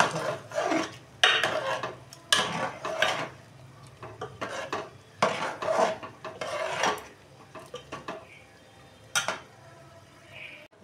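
Mutton mince khichuri being stirred in a wok after hot water is poured in, with repeated rasping, scraping strokes of a spoon against the pan in an uneven rhythm, close and moderately loud, with no talking.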